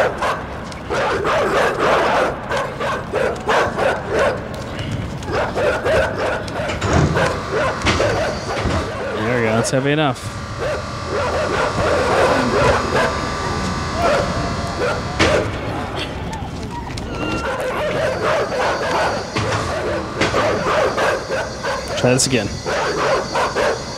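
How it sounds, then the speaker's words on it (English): Dogs bark and yip repeatedly in the video game Inside, under game noise and frequent talking from a player. "Yeah, we hear you, dogs."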